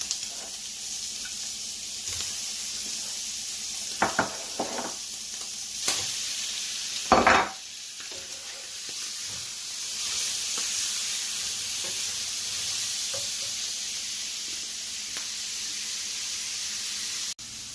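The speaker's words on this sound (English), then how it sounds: "Right, so that's just sizzling away there." Steady hissing sizzle of meat frying in a pan, with occasional clinks and scrapes of a utensil stirring, continuous throughout.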